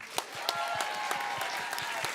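A fairly quiet crowd applauds a live band at a dance show, with scattered, distinct hand claps standing out over a softer background wash.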